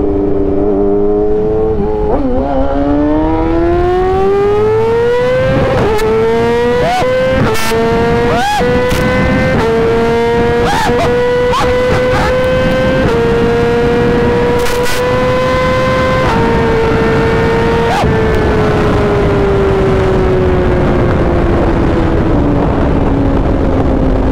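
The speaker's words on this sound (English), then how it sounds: "let's see if we can get like a pretty slow pull" A Yamaha R6 track motorcycle on slick tires revs up through first gear on the street, its high-pitched inline-four engine climbing steadily and loudly with a brief shift-like dip, close and continuous over wind noise.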